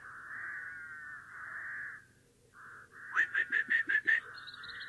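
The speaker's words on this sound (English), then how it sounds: "A bird with a red breast was sitting on one of them, and he sang." A red-breasted robin sings from a treetop: clear whistled phrases followed by a quick run of about six sharp repeated notes, close and distinct with no talking.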